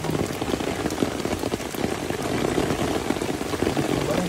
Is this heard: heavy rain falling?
yes